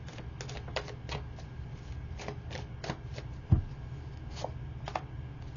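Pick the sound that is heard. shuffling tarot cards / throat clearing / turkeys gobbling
shuffling tarot cards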